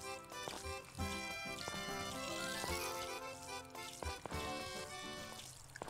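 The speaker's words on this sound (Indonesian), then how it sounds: "Akhirnya selesai juga siram-menyiram." Watering plants in a farming video game: a short sequence of splashy pouring-water effects over bright, tinkling game music, with no talk.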